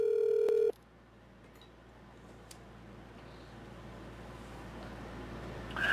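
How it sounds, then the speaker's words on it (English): A loud electronic phone tone sounds briefly at the start, then stops, leaving a quiet hum with a faint chirp near the end. "phone call"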